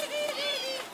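Pigeons in a home birdcage give a clear, steady cooing call lasting about a second, with no voices over it.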